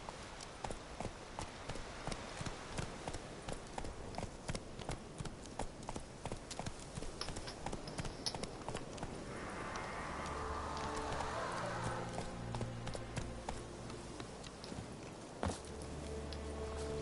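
Geralt's horse Roach trotting in Witcher 3, a steady run of clip-clop hoofbeats on ground that continues throughout, with a brief swelling ambient wash and low in-game tones emerging partway through.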